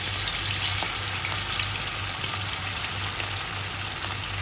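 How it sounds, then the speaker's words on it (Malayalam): Chicken pieces frying in hot oil in a pan give off a steady, dense sizzle that holds at an even loudness throughout, with a low hum underneath and no talking. "എണ്ണ തിളച്ച് വരുമ്പോൾ നമുക്ക് ചിക്കൻ പീസസ് നന്നായിട്ട് വറുത്തെടുക്കാം."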